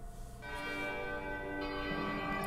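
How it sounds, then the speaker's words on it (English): Large church bells in the game Super Paper Mario ring together in a sustained, resonant peal, with overlapping tones swelling and layering at a steady moderate volume. "Church bells are ringing."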